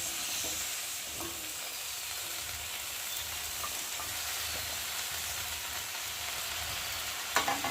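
Chopped bottle gourd greens are stirred into a spiced masala frying in a pan, producing a constant crackling sizzle with light scraping from the stirring and no talking.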